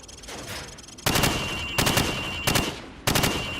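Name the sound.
rifle gunfire from the hip in Call of Duty video game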